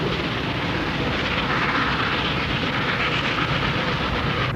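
Norfolk and Western 1218 steam locomotive running, a loud, dense, continuous roar of engine and rolling train noise close by, with no talk.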